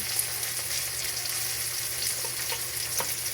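Tomato and onion frying with mackerel in a pan, a steady close sizzle with a few faint utensil taps.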